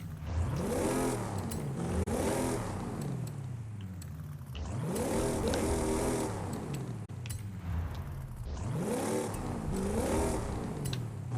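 Plymouth Belvedere set up as a WRC-style rally car with its stock engine in Forza Horizon 5, revving up in three long, loud rising sweeps, each dropping away before climbing again, with no voices over it.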